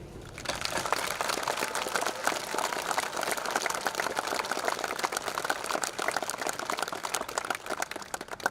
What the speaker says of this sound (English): I would like to ask you all for a big round of applause for those who I've mentioned